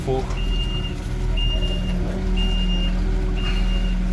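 A loaded truck idles with a deep engine rumble while its reversing alarm beeps four times at a steady once-per-second pace, with a voice talking over the motor.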